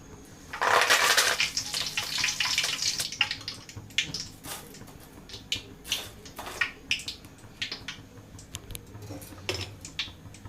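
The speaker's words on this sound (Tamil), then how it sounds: "இப்போ இந்த ஆயிலே கொஞ்சம் கருவேப்பிலையும் பொரிச்சு போட்டுடலாம்" Curry leaves spluttering in hot oil used for frying snake gourd chilli 65, a loud burst of crackling and hissing at first, then settling into scattered sharp pops and sizzles.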